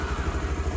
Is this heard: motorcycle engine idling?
yes